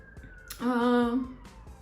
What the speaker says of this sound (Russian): Так, мигалки, все по классике. У нас постоянно мигалки едут.